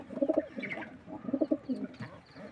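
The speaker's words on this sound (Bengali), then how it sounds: "এই একটা মাদি রেসার কবুতর" A female racing pigeon coos close by in two soft, throaty, rolling bouts, each made of quick pulsing notes, with a brief pause between them.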